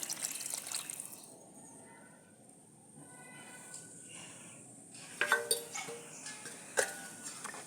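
Water poured into a cooking pot over fried tomato, turmeric and spices while making a Punjabi pea biryani, a soft trickling pour followed by a few louder clinks and splashes near the end.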